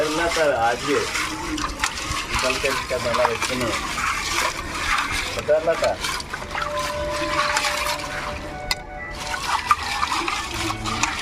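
Sea crabs being washed in water, with continuous splashing and running water close by and a voice talking over it.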